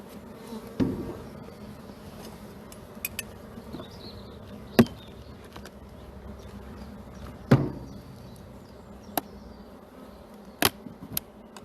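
Honeybees hum steadily around an opened hive in an apiary in March, a soft continuous buzz with scattered clicks and knocks of hive tools and frames, no talking.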